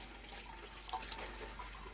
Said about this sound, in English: So I'm just going to use my tomato can and rinse that.